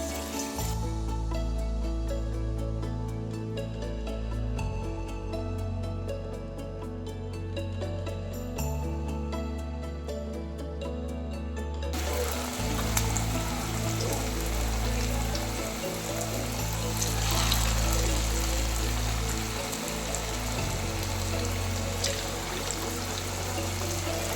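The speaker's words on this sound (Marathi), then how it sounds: "कढईमध्ये कडकडीत तेल गरम करून घेतलेलं आहे आता याच्यामध्ये आपण या वेजीस सोडणार आहोत" Potato wedges deep fry in very hot oil in a kadhai, giving a steady, loud, close hiss and bubbling that runs the whole time over a low musical backing.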